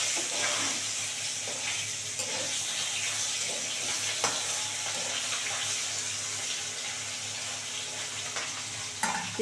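Rita fish fry in a pan with a steady, close sizzle and crackle of hot oil throughout, with occasional sharper pops and a faint clink near the end.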